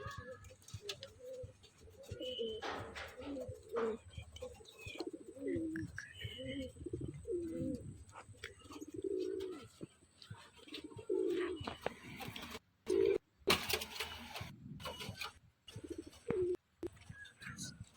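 Top-quality pigeons kept for sale coo in low, repeated throaty bursts at close range, fairly quiet, with a few sharp knocks and scuffles toward the end.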